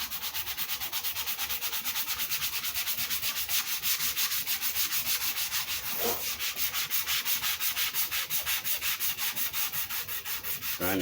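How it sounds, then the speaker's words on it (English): Rhythmic back-and-forth rubbing strokes of sandpaper on the plain maple top of a Les Paul guitar, steady and close, repeating evenly throughout. "Trying to sand with the grain"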